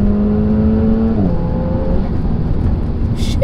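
Renault Megane RS engine pulling hard at full throttle from inside the car, a loud steady tonal drone that shifts as it climbs through the revs, close and constant with no talk over it.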